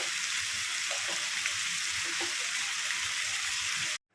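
Sliced onions and green chillies frying in hot oil in a pan, a steady close hiss and sizzle with faint crackles, continuous until it cuts off abruptly near the end.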